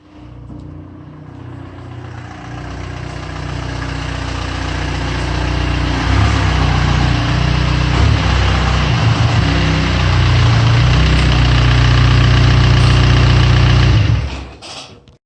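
A tuned Volkswagen ALH diesel engine in a car pulls up and idles, a steady, loud rumble that swells closer over about fourteen seconds and then cuts off abruptly.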